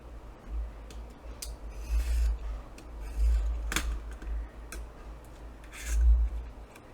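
Scissors cut paper for a paper bag journal, quiet close snips and rustling scrapes repeating irregularly over low background rumble, with no voices.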